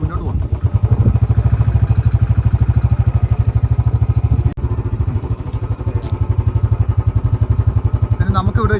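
A motorbike engine rumbles and chugs with a rhythmic low pulse while riding through the Kanthalloor hills near Munnar, close and loud, dipping briefly midway before resuming its steady throb.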